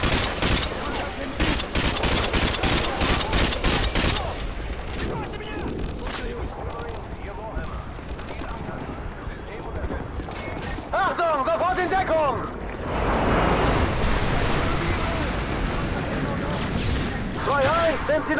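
Sustained gunfire in Call of Duty Modern Warfare 2: dense rapid automatic bursts and continuous volleys, loud and close, with voices talking over the shooting.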